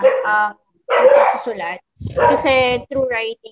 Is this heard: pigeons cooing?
no